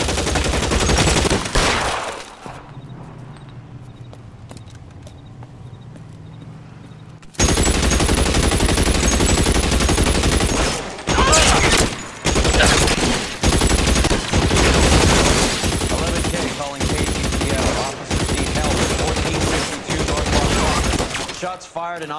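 Gunfire in the video game L.A. Noire during a shots-fired, officer-needs-help call: loud, dense bursts of shooting at close range in two stretches separated by a quieter lull, with speech mixed in.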